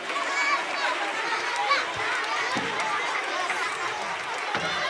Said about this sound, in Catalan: un aplaudiment també per ells.